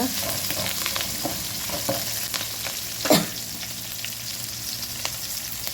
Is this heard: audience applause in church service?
no